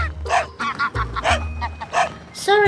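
A goose honks repeatedly in loud, nasal, rising calls spaced irregularly, with what may be a dog's barks mixed in between, close and clear.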